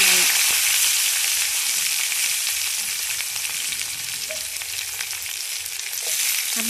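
Curry leaves and garlic frying in a hot kadai give a dense, even crackling sizzle, close and steady, with a few faint clinks and no speech.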